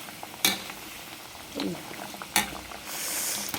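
Ready-to-cook crispy chicken nuggets frying in hot oil: a continuous soft bubbling sizzle with a few sharp clatters of a utensil against the pan and a brief surge of crackling near the end.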